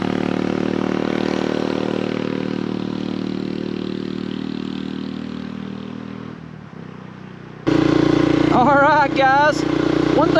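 Steady engine drone of a Honda Trail 125 motorcycle on the move in winter riding, loud and constant with wind, easing slightly before a sudden louder section with a voice speaking over it.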